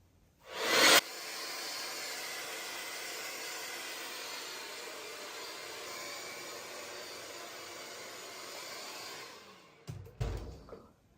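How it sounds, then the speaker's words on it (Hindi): A handheld hair dryer blows a steady, loud broadband rush for about nine seconds at close range during home hair care, starting with a brief louder burst and ending with clicks and handling noise as it switches off. "फिर मैं एक दफ़ा दोबारा इसको हेयर ड्रायर से हेयर ड्रायर यूज़ करूँगी"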